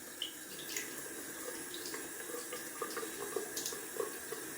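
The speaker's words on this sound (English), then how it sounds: "Gonna add some cold water to the face." Cold water runs steadily from a tap into a sink and is splashed onto a face during a wet shave, a soft continuous stream with light splashes and drips.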